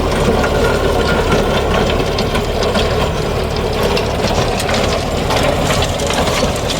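A Mahindra 575 tractor runs a rotavator in a field, its diesel engine and churning, grinding blades making a loud, steady, unbroken mechanical roar close by.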